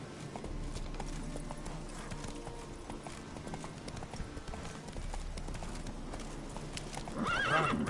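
In The Witcher 3, the horse Roach gallops with rapid, continuous hoofbeats, close and steady, and a whinny rises near the end while someone speaks briefly.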